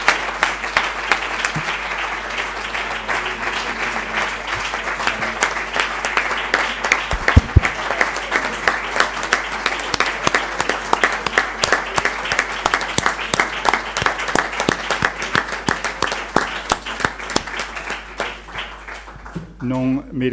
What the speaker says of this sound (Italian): all'onorevole Berlinguer dopo questo applauso veramente da standing ovation che ha ricevuto